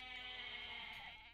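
A goat in a real-time strategy game lets out one long, quavering bleat lasting over a second before it cuts off, with no talk over it.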